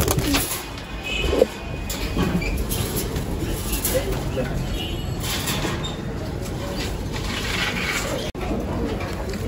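High flyer pigeons at a pigeon seller's in Dhaka coo softly under steady background noise, with people talking nearby.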